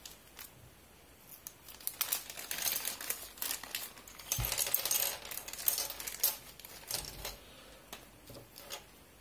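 A plastic bag of Raspiboy handheld console parts and small screws is handled up close, giving irregular crinkles and the light clinks and rattles of metal screws shifting inside.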